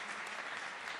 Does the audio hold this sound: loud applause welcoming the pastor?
yes